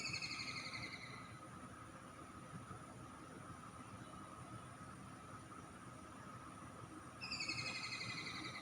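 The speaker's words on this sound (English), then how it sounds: "Oh, I think I know what that bird is. It's a kingfisher." A kingfisher sounds off with two rapid rattling bursts of high chattering calls, one at the start and one near the end, over a quiet hum of background noise.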